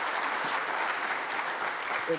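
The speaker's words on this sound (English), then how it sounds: "So, round of applause from our audiences here." Audience applause at a talk on farm business about Schnepf Farms: a steady, moderate wash of clapping from a seated crowd, with faint voices near the end.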